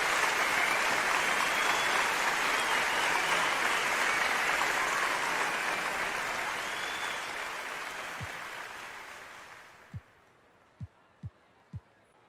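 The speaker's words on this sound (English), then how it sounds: "Can we get a round of applause for my parents here?" Loud, dense crowd applause fills a virtual arena in an NBA 2K game, holding steady and then fading away, followed by a few isolated basketball-like thumps at the end.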